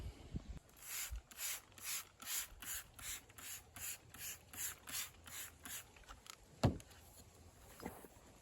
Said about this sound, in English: This one I opted to sand with 320 grit prior to the 500